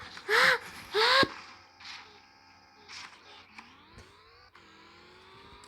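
After two loud vocal bursts at the start, a wrecked car's engine in a video game hums on steadily, its pitch gliding upward in a smooth, continuous drone.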